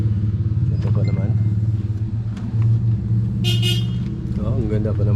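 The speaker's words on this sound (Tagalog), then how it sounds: "Oh, ang ganda pa ng makina." Idling diesel engine of a surplus Isuzu truck at a used-vehicle lot, a steady low rumble throughout with a brief horn-like toot in the middle and people talking nearby.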